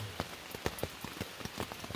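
Rain falls on a tent, making a soft, close patter of scattered drops that tap irregularly on the fabric over a faint background hiss.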